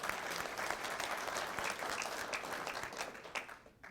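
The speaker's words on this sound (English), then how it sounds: "give yourself a round of applause for that" A graduating military class breaks into applause, a dense, steady patter of many hands clapping together at a moderate distance, tapering slightly toward the end.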